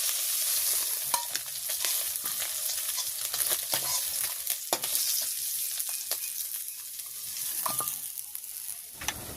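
Small native koi fish fry in oil in a pan, with a steady, bright sizzle that runs for several seconds alongside occasional crackles and pops, and no talk.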